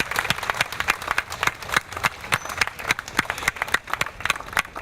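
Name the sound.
crowd applause at charity walk event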